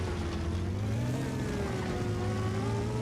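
A vehicle engine in Battlefield 4 labours as it climbs uphill, a steady loud drone with rising tonal whine that keeps going for the full stretch without pause.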